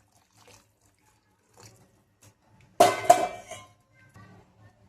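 A brief splash of hot water poured into a pot of peas for misal, lasting under a second, with a quiet room before and after.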